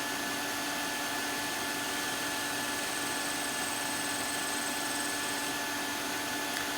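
A lathe tool makes a pull cut on the face of an oily wood yo-yo, a faint continuous hissing whir with a steady hum and no break, alone without talk.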